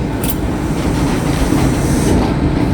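A train passes close by in a steady, loud rumble of rolling railcars with faint clickety-clack from the wheels, filling the whole stretch without a break.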